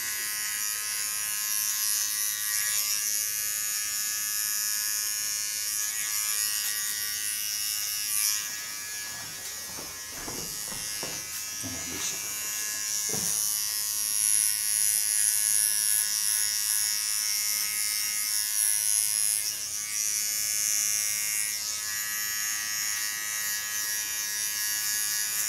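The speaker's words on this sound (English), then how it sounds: "Clean the contour line with a small clipper. This clipper has a ceramic blade, that's why you hear it." A small hair clipper with a ceramic blade trims a contour line on a short pixie cut, giving off a steady, close, high-pitched electric buzz that wavers slightly as it moves, with no voices.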